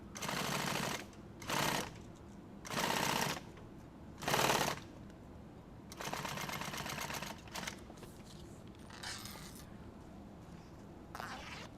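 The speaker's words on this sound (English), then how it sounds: "Just going to sew it right on the edge here." A sewing machine stitches a zipper onto nylon tactical gear in several short whirring bursts with pauses between, then a longer stretch of steady stitching, close by with no talk.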